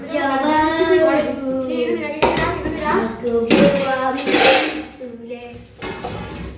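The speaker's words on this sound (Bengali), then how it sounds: "চলো সবার জন্য আমার ভাতটা আগে বেড়ে নিই" Rice being served onto plates with utensils at home, intermittent clinks and scrapes of metal on dishes under a woman's speech and a voice nearby.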